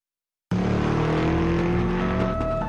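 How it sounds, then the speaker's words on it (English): A car speeding through the Egyptian desert in a Transformers movie scene, starting abruptly with a loud steady engine roar and rising whining tones of acceleration, close and continuous. "Here's Shia LaBeouf speeding through the Egyptian desert."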